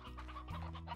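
A chicken in the video game Slime Rancher gives a short series of soft clucks, quiet and brief, over a faint low background hum.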